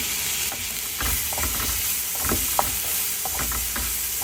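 Chopped tomato sautéing with toasted spices in a pan, a loud continuous sizzle broken by repeated scraping stirs of a spoon, close and without talk.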